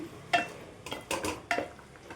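A spoon stirs a chickpea masala curry in a pot, making three or four distinct scraping clinks against the metal with soft, wet mixing between them, close and fairly quiet, with no voices.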